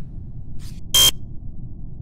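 The failed card swipe in the video game Among Us gives a short, harsh electronic buzz, loud and alone, preceded by a faint brief blip and low background hum.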